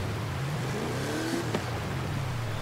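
A 1500-horsepower Mercedes G-Class engine revs in Forza Horizon 5, a steady loud engine drone with rising and falling pitch sweeps and a brief sharp burst midway, alone without talk.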